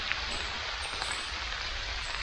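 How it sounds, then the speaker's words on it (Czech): Rain falling in a forest, a steady close patter of drops on leaves and ground, continuous and even throughout with no voices. "začíná pršet"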